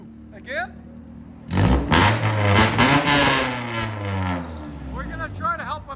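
A straight-piped 1999 Honda Civic with headers is revved repeatedly at close range, producing a loud, sustained roar that rises and falls, with a few spoken words before and after.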